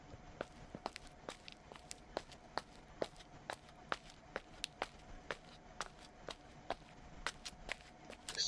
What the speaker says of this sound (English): Spooky with those sounds, just your footsteps. Echoing around the halls.